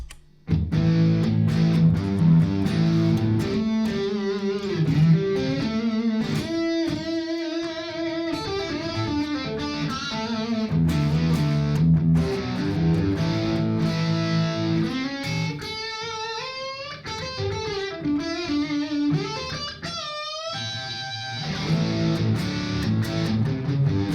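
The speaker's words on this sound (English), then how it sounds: "Let's hear very quickly the dirty channel." Electric guitar with EMG pickups played through an amplifier's dirty channel, a thick, crunchy British-style tone, strumming chords and picking riffs loudly and continuously with no talking.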